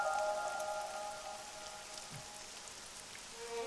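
Rain in the video game Ai: The Somnium Files, a soft steady patter of drops on a surface with faint tonal game sounds layered over it, quiet and continuous.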